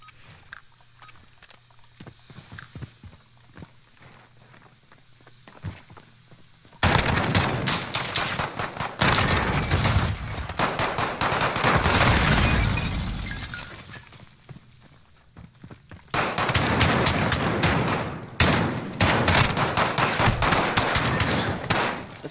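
Shotgun and automatic gunfire in Call of Duty Modern Warfare, played in Gunfight mode, with loud bursts of shots, a lull, then another dense volley of close firing.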